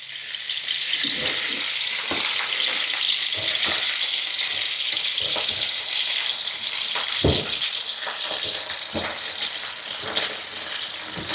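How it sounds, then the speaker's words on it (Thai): Vegetables stir-fried in hot oil in a Thai home kitchen, a loud steady sizzle with scraping stirs and occasional clanks of the utensil against the pan, continuing throughout without talk. "น้ำมันร้อนแล้วใส่ผักคัน จอง ลงไปเลยค่ะ"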